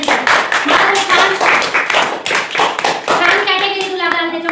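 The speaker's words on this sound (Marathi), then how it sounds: "टाळ्या वाजवायच्या" Children clapping their hands in a classroom, a run of quick, uneven claps that carries on steadily, with a voice and a sustained vocal tone rising near the end.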